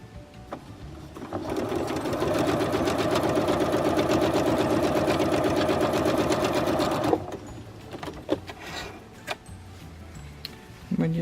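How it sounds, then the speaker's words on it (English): A sewing machine stitches quilt binding strips along a marked line in one steady, loud run of about five seconds, then stops, leaving a few faint handling clicks and taps. "we're going to sew right on that line"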